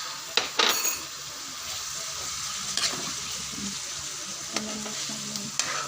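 Ampalaya (bitter melon) with egg fries in a pan, a steady loud sizzle broken by a few scraping stirs and metallic clinks of the utensil against the pan.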